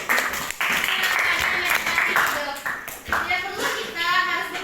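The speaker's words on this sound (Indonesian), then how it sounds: "Dan tepuk tangan dulu." Children in a classroom clap their hands in a counseling lesson, a lively patter of claps mixed with kids' voices and shuffling, rising and falling across several seconds.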